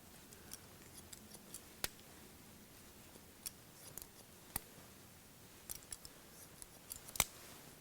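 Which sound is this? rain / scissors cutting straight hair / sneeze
scissors cutting straight hair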